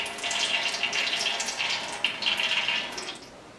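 Old motorcycle fork oil dribbles into a glass jar in a thin, uneven trickle, a soft liquid patter that rises and falls over a few seconds, close by, with no voices.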